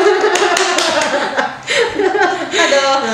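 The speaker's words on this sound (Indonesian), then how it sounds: "Wah, tepuk tangan." Hands clap in a quick, irregular burst alongside laughter and lively talking voices, close and fairly loud, during a radio broadcast.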